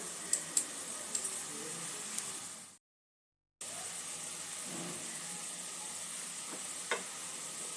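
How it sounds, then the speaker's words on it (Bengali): Bottle gourd frying in ghee over a low-to-medium flame: a steady soft sizzle runs throughout, broken by a brief gap of silence and a few faint clinks, with no talk. "দু 3 মিনিট লাউটা ঘিয়ের সঙ্গে একটু ভাজা করে নেব"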